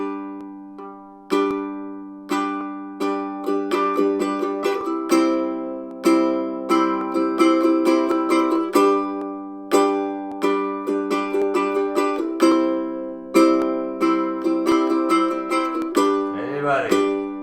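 Ukulele strumming a play-along song at a slightly faster tempo, steady rhythmic strums with repeated chord changes, close and fairly loud, no talking over it.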